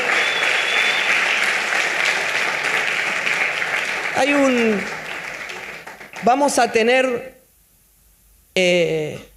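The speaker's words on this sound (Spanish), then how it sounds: "Le damos un aplauso al Señor" A church congregation breaks into loud, steady clapping for about four seconds; then the applause fades and a voice speaks, with short pauses between phrases.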